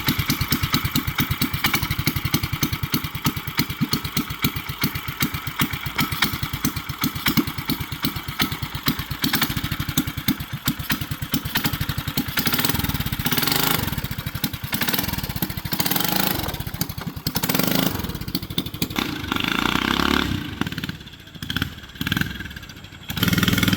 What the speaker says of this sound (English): I want to kind of start it and kind of give it a little gas just to see if this flexes.